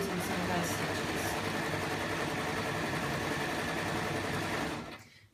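A sewing machine runs continuously, stitching a circle cushion, its fast even whirring steady and close for several seconds before stopping abruptly.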